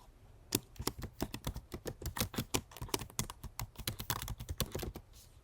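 Quick bursts of typing on a computer keyboard as a name is entered, the keys clicking in an uneven, fairly fast rhythm, close and quiet, with no talking.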